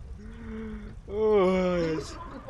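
A cow in the GTA roleplay server Barvikha RP lets out two drawn-out moos, the second louder and longer, close and clear with little else around.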